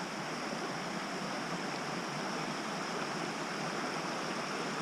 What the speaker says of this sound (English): the first obstacle of the day is this river crossing with this wire bridge